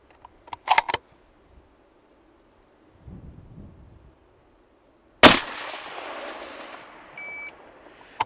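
A single sharp gunshot fired during a timed shooting drill, loud and abrupt, followed by a long decaying echo, with a few earlier clicks and faint handling noises.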